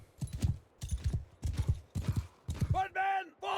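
Horses trotting in the medieval battle game Mount & Blade II: Bannerlord, a rhythmic repeating clip-clop of hooves, fairly close, ending with a brief shouted command.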